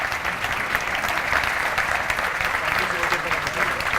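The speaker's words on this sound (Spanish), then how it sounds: "Yo creo que se merece un gran aplauso" Steady, full audience applause at an economists' conference in Murcia, a dense continuous patter of many hands at even loudness throughout, with faint crowd murmur underneath.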